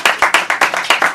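A small group claps at a paranormal-themed show, about seven sharp, evenly spaced hand claps, close and loud, with no talking over them.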